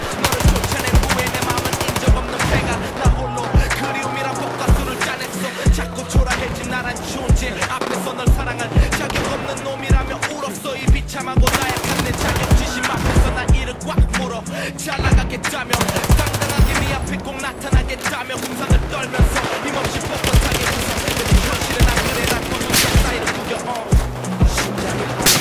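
Sustained machine gun fire in the shooter game Battlefield 4, dense rapid bursts mixed with other gunfire and impacts, loud and continuous throughout, with a voice talking over the shooting.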